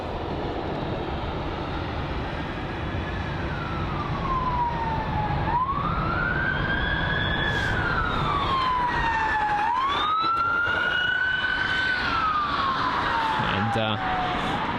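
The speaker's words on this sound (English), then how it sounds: "So sorry for the loud sirens" A police van siren passes close by near Heathrow airport, its loud wail sweeping up and down in repeated cycles over a steady low rumble of traffic and background noise.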